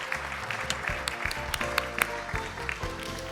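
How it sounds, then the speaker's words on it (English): Applause from a conference audience after a keynote speech at a media expo, steady dense clapping with sharper individual claps standing out, fairly close and continuous throughout. "We need another big round of applause for the great speech."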